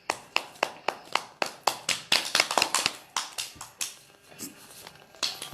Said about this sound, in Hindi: सब लोगों ने अपने अपने जगह पे तालियां होनी चाहिए